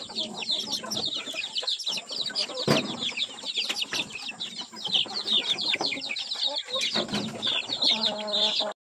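Free-range chicks and chickens on a farm cluck and cheep constantly at close range, with occasional wing flaps and a busy, overlapping chorus.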